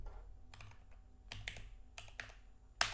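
Quiet computer keyboard typing in short bursts of several keystrokes separated by pauses, ending with a louder clack, while renaming a node in TouchDesigner.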